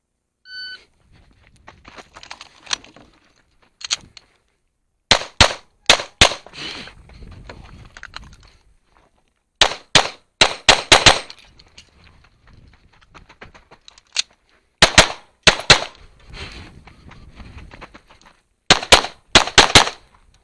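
Pistol shots fired on an IDPA National Championship competition stage, in rapid bursts of sharp, loud cracks grouped into several strings with short pauses, plus an electronic start beep at the beginning.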